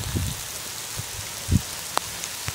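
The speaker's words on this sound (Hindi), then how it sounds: "बहुत तगड़ी बारिश हो रही है बाहर" Heavy rain patters steadily outside a hut, a soft hiss with occasional louder drops and thuds, no voices.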